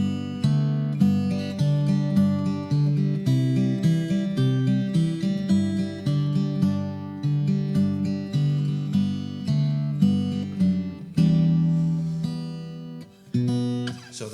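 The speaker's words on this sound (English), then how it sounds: "instead of playing the pattern with my fingers, I play the melody with my fingers, it sounds like this" Fingerstyle guitar picks out a melody with the fingers over an alternating thumb bass, a steady flow of plucked notes close up, bright and resonant, with no talking.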